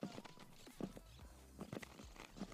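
A horse moving during a riding lesson gives a steady, rhythmic clip-clop of hooves on the ground, fairly quiet and close, repeating evenly throughout.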